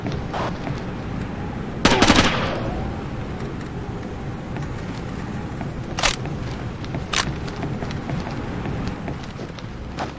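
Gunfire in Rainbow Six 3: Raven Shield, with a loud burst of shots near the start and a few sharp single cracks later, over a steady rain-like background.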